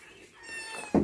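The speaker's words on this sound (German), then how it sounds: "Aber da sind noch Katzen drin." A cat kept indoors in a cool room meows once, short and fairly close, rising at the end of the moment with a brief louder burst; no talk over it.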